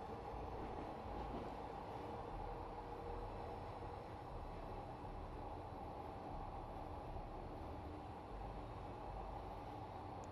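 A Glasgow Subway train coasting along in Train Simulator Classic, a steady low rumble and rolling rail noise that holds evenly throughout with no talking.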